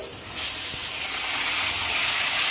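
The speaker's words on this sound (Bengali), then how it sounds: "এবার তরকারিগুলোকে ছেড়ে দেবো" Vegetables go into hot oil tempered with cumin and set off a loud, steady, broad sizzle with no pause that holds close throughout, and no voices are heard.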